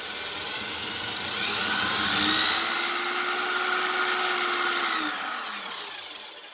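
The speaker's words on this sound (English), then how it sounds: "You can just work the drill and slowly push it in there" A power drill driving a Frankford Arsenal Universal Precision case trimmer spins up into a steady whine that holds for a few seconds, then winds down as it slows to a stop.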